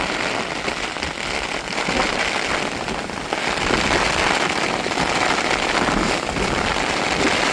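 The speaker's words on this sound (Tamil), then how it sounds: "பாருங்க காற்றுக்கு எப்படி மழை பெய்யுதுன்னு சொல்லி" Heavy rain driven by strong wind, a dense steady hiss and patter filling the whole stretch, loud and close with gusty swells and no voices.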